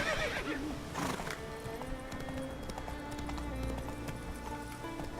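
Roach the horse in the Witcher 3 video game gives a loud whinny and then gallops with quick, steady clip-clop hoofbeats, close by.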